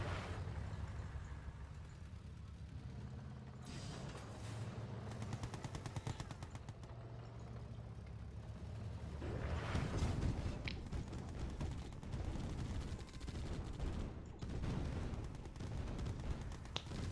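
Gatling tanks firing in Yuri's Revenge, battling Grizzly tanks and infantry, produce a continuous stream of rapid rattling shots, rising heavier and louder partway through amid scattered impacts.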